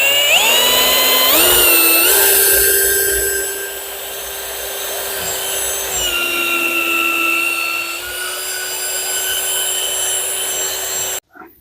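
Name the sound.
drilling timber with long drill bit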